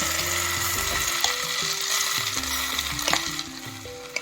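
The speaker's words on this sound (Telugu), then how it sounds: "ఇప్పుడు ఈ నూనె వేడెక్కాక పిండి వేద్దాం" Rice-flour batter for Andhra-style ginne rotti hits hot oil in a heated pan and sizzles, a loud steady frying hiss that continues close up throughout.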